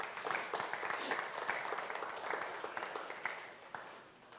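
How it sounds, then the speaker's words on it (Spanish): A church congregation claps and applauds together, a moderately loud, sustained patter of many hands that gradually thins toward the end. "Dele un aplauso al Señor, pues."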